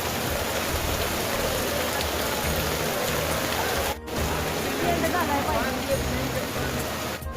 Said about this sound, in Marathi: पाऊस एकदम खतरनाक चालू झालेला आहे